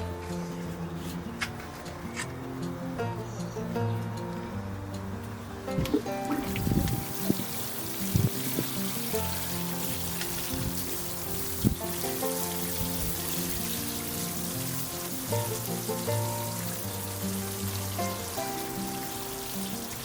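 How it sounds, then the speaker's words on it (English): Water trickling and splashing steadily while plant seedling trays are washed out in a garden, a close, continuous spattering that grows louder partway through. "After planting I also wash out the trays, because we might need them again for next seedlings."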